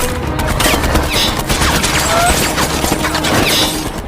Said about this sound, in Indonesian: Sajo terkena tembakan dari Vigar.